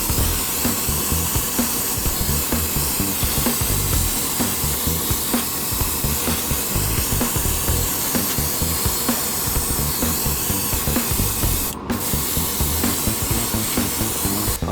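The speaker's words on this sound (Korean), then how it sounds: "일단 먼저 사포질을 했고" Continuous, even scratchy rubbing of sandpaper on a plastic model kit part, close and steady with a fast back-and-forth texture, no voices.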